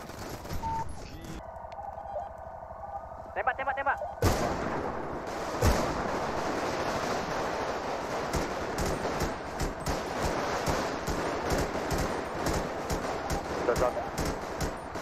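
Rapid gunfire in the GTA V roleplay video game, a dense stream of sharp shots that runs steadily for most of the clip after a quieter opening, with voices talking over it.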